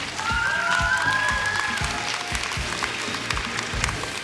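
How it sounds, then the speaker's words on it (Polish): An audience applauding at the 2022 Mysłowice talent show, dense continuous clapping that fills the hall, with a brief whistle early on and no clear speech. "Wielkie brawa jeszcze raz dla Amelki."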